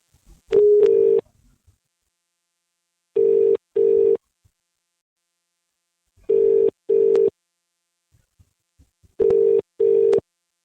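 A telephone handset plays four paired bursts of a steady dial-type tone, evenly spaced with short silences between, loud and close with no talking.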